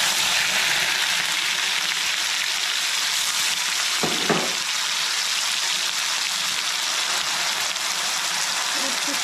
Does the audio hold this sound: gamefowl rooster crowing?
no